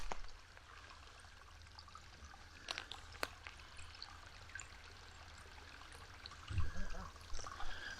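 Water running over a small dam outdoors at night, a faint, steady trickling flow with a few scattered knocks and a soft low rumble near the end.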